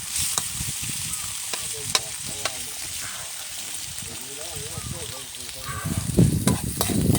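An egg fries in a pan during village cooking, giving a steady close sizzle with scattered sharp clicks and scrapes that swell into louder crackling toward the end.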